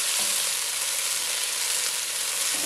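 Finely sliced onions fry in a pan for degi-style sabit masala gosht, giving a loud, dense, unbroken hiss of sizzling oil from start to finish.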